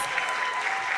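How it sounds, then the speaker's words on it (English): A livestreamed foundation award event audience gives a steady, dense round of applause, sustained and even throughout with no talk over it. "this is a huge round of applause to the 4 of you projects"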